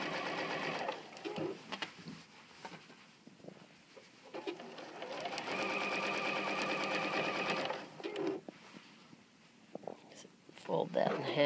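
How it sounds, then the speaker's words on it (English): Quilt binding runs through a sewing machine in close, steady stretches of whirring stitching, broken by short pauses and handling noises, with a voice speaking at times between runs. "continue sewing"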